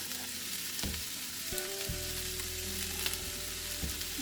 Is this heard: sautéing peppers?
yes